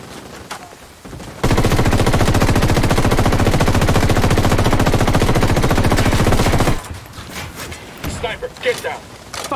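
Sustained heavy automatic gunfire from a firefight in Ghost Recon Wildlands, a dense continuous burst lasting about five seconds, loud and close, bracketed by quieter shouting and ambient noise before and after.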